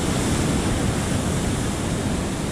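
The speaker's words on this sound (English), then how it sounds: "you can't come to the beach without seeing the waves do what the waves do." Ocean surf at a beach at sunset, a continuous loud broadband roar of breaking waves with no voices.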